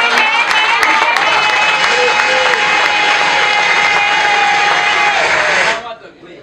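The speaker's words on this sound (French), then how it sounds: "je vous demande d'applaudir pour lui quand même." Audience applause at a gathering of TP Mazembe football supporters, a dense, loud wash of clapping mixed with crowd voices that holds steady for about six seconds, then stops abruptly.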